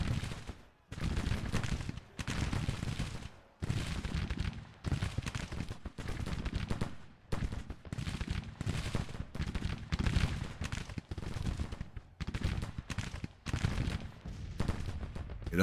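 Rifle volleys in a Civil War battle in Grand Tactician: The Civil War, loud repeated crackling bursts of musketry fired in rapid uneven succession, near and continuous with brief gaps between salvos.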